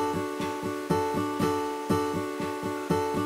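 Arpeggio pattern played on a Yamaha Motif MO8 synthesizer, a repeating run of bright plucked tones that cycles roughly every half second, steady and close with no voices.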